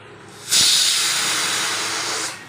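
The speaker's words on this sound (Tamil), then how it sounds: "நல்லா கொதிக்குது. இப்போ மீன் போட்டுக்கலாம்." Sardines go into a pot of boiling fish curry with a sudden loud, steady hiss that holds for about two seconds before cutting off, close and unmasked by talk.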